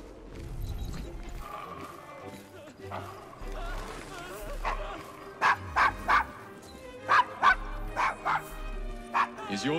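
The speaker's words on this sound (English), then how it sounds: "Is your dog quite all right?" A dog in the Assassin's Creed Syndicate video game, set in a rough Victorian London district, barks in a series of sharp, loud yips that grow more frequent toward the end, with people talking around it.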